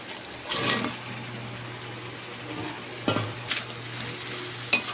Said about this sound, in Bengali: এবারে আমি ভেজে রাখা আলু আর কাঁকড়াগুলো মশলার সাথে ছেড়ে দেব